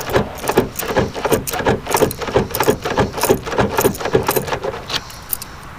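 Key repeatedly worked in and out of a freshly lubricated Camaro door lock, a fast string of crisp metallic clicks and rattles with a slight keychain jingle, close and steady before stopping abruptly.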